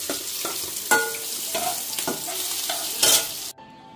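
Food fries on a gas stove, a steady close sizzle broken by repeated scraping stirs of a utensil in the pan, with no talking.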